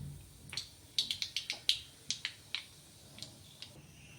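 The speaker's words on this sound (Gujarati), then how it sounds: "તો આપણી રાઈ ફૂટી ગઈ છે." Mustard seeds, cumin and asafoetida crackle in hot oil as a tempering, with a quick run of sharp, close pops that thin out into a few scattered ones.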